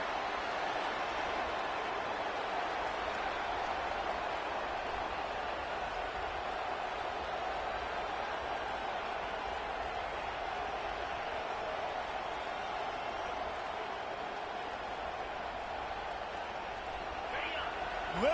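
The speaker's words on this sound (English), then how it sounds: "Listen to this crowd just shaking the girders of this place, trying to help their defense." A packed college football stadium crowd in Arkansas roars in a sustained, steady wall of noise that barely varies, heard at a distance with no breaks throughout.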